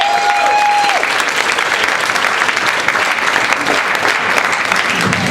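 An audience at Carolines comedy club in New York applauds loudly and steadily for a comedian taking the stage, a dense, continuous clapping that holds at full strength for the whole stretch, with a brief whistle near the start.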